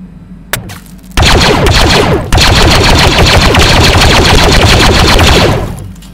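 Blasters in a Star Wars virtual reality game fire in rapid, loud, sustained bursts, machine-gun-like rattling close up for several seconds with a brief pause before fading out.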